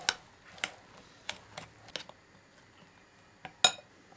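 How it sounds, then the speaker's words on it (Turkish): Two eggs with a pinch of salt get whisked in a bowl, heard as a few sparse, light clinks of utensil against the dish, quiet and irregular with no talk. "İyice eşit şekilde karıştırıyorum."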